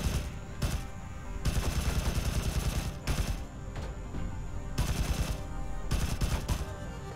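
Weapons firing in the video game Sublevel Zero, dense rapid bursts of loud synthetic gunfire lasting a second or more each, separated by short lulls over a steady game background.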